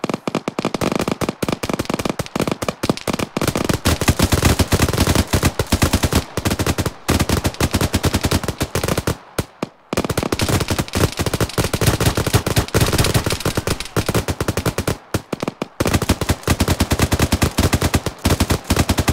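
Automatic rifle fire in the military video game ArmA 3, dense continuous bursts of loud shots with brief gaps, close and dominating, with other distant gunfire mixed in.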